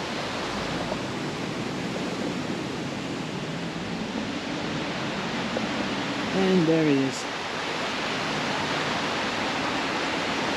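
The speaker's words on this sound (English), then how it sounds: "The water wheel." Water wheel turning in flowing water in Augsburg, Germany: a steady, close, broadband rush of water that runs unbroken throughout, with a voice speaking briefly over it near the end.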